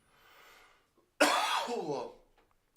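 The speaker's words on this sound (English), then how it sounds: "I'm gonna cough again, guys." A faint breath, then a single loud, harsh cough close by that trails off over about a second.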